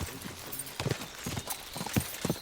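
A horse in the medieval video game Kingdom Come Deliverance 2 trots along, its hooves giving a quick, even clip-clop rhythm of close knocks over a faint background hum.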